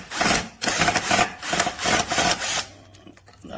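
A FADAKWALT 12V cordless drill backs a screw out of wood: a close, rasping grind in several surges with short breaks between them, then it stops.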